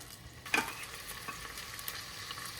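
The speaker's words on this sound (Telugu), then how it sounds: "బాగా ఫ్రై అవ్వాలి ఇది, సరేనా?" Soft, steady sizzling of garlic frying in oil for sambar, with a brief stir or scrape near the start; quiet and close.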